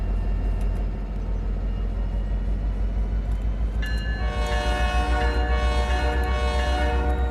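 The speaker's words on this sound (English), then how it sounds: "this is a really heavy train, and I think we may be backing up a slight grade" A heavy freight train led by an SD70ACU locomotive backs up a slight grade in Trainz, its loud engine drone steady throughout before a horn blares in from midway and holds to the end.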